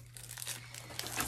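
Thick bubble wrap packaging from a plant delivery crinkles and crunches in short close bursts over a steady low hum, with no one talking.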